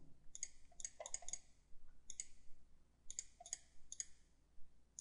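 Computer mouse clicks while working in 3D piping design CAD software, a run of crisp, fairly quiet clicks coming in small bursts and single presses, with no talk over them.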